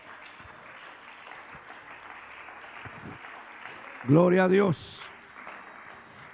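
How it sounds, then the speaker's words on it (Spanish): A church congregation applauds steadily through a worship service, with a brief loud shouted voice rising over the clapping near the end. "Denle un aplauso al Rey"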